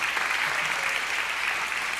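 A church congregation at an evening celebration service applauds, a steady, even wash of many hands clapping together that holds for the whole stretch.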